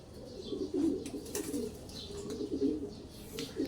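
Racing pigeons in a breeding loft cooing continuously in low, overlapping burbling calls, several birds close by, with faint chirps and light rustling.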